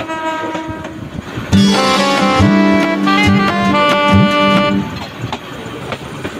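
A passenger train running from Mymensingh to Gouripur sounds a loud, sustained multi-tone horn over the rumble and clatter of the carriages, then the horn cuts off and the rolling noise carries on.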